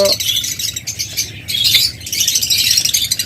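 Yellow collar lovebirds kept as a breeding pair chirp in dense, continuous high twittering, loud and close, with overlapping calls from several birds.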